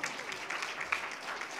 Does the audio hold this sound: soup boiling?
no